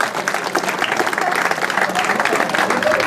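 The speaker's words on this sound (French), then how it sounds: "maintenant je vous demande des applaudissements pour ces 3 personnes." Crowd applause for award winners at a trail running race ceremony, steady dense clapping filling the whole stretch with a few faint voices mixed in.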